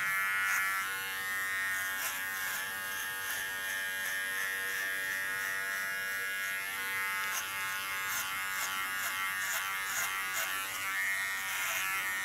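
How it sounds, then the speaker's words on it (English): Electric hair clipper in combing position trimming a woman's thick hair into an ultra-short style, a steady close buzzing hum with slight shifts as it moves along the contour line, no talking. "With my clipper in the combing position, I clean the contour line and I make a connection to the shorter upper hair."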